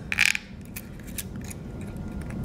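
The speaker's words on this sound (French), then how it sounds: "Pour couper la bande de métal, on va utiliser le ciseau à métal." Metal shears cut through a thin metal strip, a sharp, loud metallic snip at the start followed by a few lighter clicks and scrapes over a low background hum.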